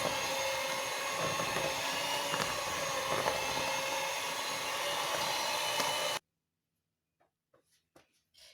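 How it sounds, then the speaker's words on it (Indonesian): An electric mixer kneads meatball dough for village-style bakso, giving a steady, loud whirring drone for about six seconds before cutting off, followed by a few faint clicks and knocks. "Mixer dulu ya teman-teman sampai adonannya kalis."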